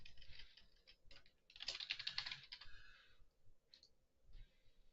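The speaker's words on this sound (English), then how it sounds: "I just like manual typing a lot with the tuck tuck tuck tuck from the keyboard." Manual typing on a computer keyboard, with bursts of close, crisp key clicks and taps in an irregular rhythm, busiest in the middle and thinning toward the end.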